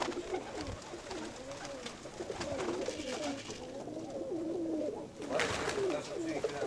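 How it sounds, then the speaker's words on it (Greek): Several pigeons coo in soft repeated rolling calls amid a flock, layered over each other at moderate distance with faint outdoor background noise. "Σκάνε συνέχεια περιστέρια."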